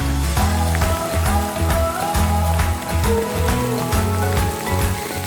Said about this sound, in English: There's some hail mixed in with that.